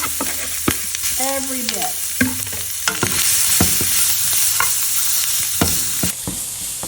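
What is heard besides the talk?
seasoned shrimp sautéing in a pan with garlic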